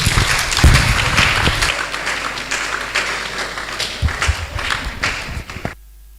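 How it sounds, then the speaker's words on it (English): Audience applause at a TEDx event welcoming a speaker to the stage, a dense, steady roar of clapping that fades out at the end. "Ladies and gentlemen, with a round of applause, let's welcome Master Gideon Benzo."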